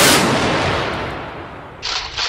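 A rifle volley fired on command blasts loudly at the start and rolls off into a long decaying echo, followed by a second, smaller burst of crackling shots near the end.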